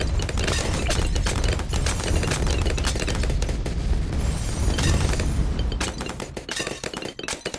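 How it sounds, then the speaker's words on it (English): A big cannon firing in the video game Bloons TD6, dense rapid booms and blasts that pile into a loud continuous barrage of game explosions, thinning slightly toward the end. "That is one big cannon right there."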